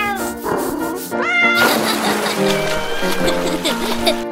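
A cartoon cat in Roblox Brookhaven meows loudly and repeatedly, some calls stretched into wailing caterwauls, over busy game music and effects.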